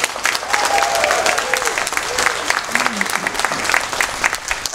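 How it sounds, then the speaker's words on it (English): An audience at a cruise job fair in India applauds steadily, a dense sustained clapping with crowd murmur and a few voices rising above it. "Can we all have a huge round of applause"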